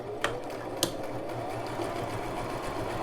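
A Brother LX3817 sewing machine runs a utility stitch through fabric, a steady close mechanical whir with two brief sharp clicks near the start.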